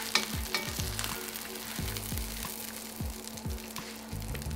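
Wild turkey pieces fry in oil in a pan with a continuous close sizzle, crackling and spattering, while utensils repeatedly scrape and tap against the pan.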